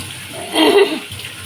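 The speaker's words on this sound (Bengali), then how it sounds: "জল বেরোবে জানি তবুও একটু জল দিতে হবে" A short splash of water poured into a hot cooking pot in a home kitchen, a brief burst of hiss and pouring lasting under a second before settling back to quiet room tone.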